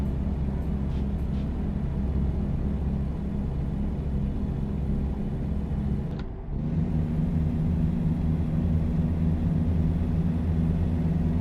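A car engine holds high revs around 7,000 RPM, a loud, steady low drone that briefly drops away near the middle before resuming at the same pitch.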